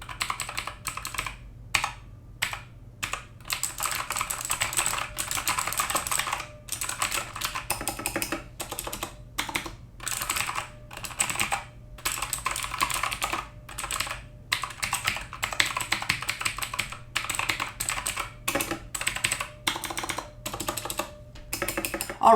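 Typing on a Redragon K552-N gaming keyboard with Cherry MX Blue switches, heard from about 2.5 feet away: crisp, clicky keystrokes in fast bursts separated by short pauses, with no talking.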